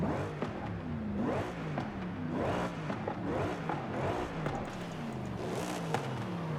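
A V8 car engine in Forza Horizon 5 revs repeatedly, its pitch rising and falling in steady cycles, with a near, moderately loud engine note that carries on alone without talk.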